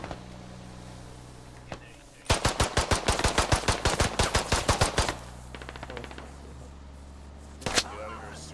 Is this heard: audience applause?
no